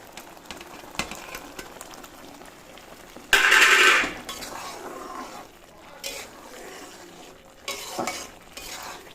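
Paneer goes into a pan of reduced liquid for palak paneer, setting off a loud, sudden sizzle that settles into quieter frying and a few scraping stirs, with fainter bursts later on.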